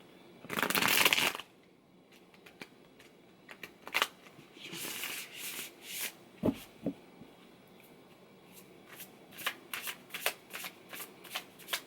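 Tarot cards being shuffled by hand nearby, starting with one loud riffling burst, followed by a run of softer, irregular slides and taps of cards being cut and handled.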